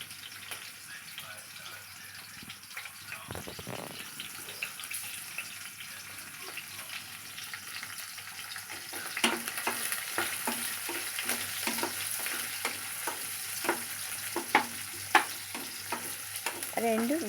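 Green chilies and onions fry in a pan with a low steady sizzle. A quiet stretch is followed by a run of rapid stirring and scraping strokes that grows louder, heard up close.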